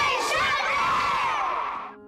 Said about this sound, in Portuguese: Décio Burtê, a criançada os envolveu numa corrente de carinho, com presentes, homenagens e o grito de guerra do clube.